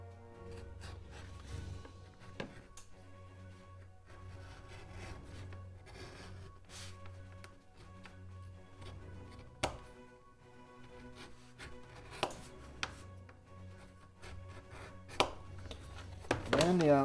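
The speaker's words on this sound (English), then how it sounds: "So I'm going to go ahead and bevel the inside of this" A leather beveler shaves along the inside edge of a leather sheath for a Gransfors Bruks axe, giving a steady close scraping rasp with a few sharper clicks and taps scattered through.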